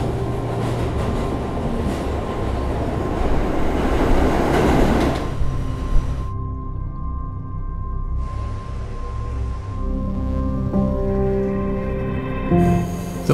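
A subway train rumbling along the rails, with steady low roar, rattling cars and tonal whines from the motors, loud and close throughout.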